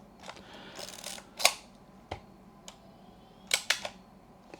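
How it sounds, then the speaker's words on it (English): Close, dry mechanical clicks and ticks from a Yashica Electro 35 GSN rangefinder camera being handled and fired on slow shutter, scattered over several seconds, with a louder double snap near the end. "Slow shutter"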